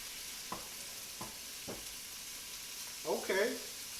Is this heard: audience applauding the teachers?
no